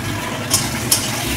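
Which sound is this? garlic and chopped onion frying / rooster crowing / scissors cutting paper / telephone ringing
garlic and chopped onion frying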